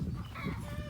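Chickens in a farm flock cluck softly around young American Bulldog pups, a brief low murmur of fowl sounds over a steady background.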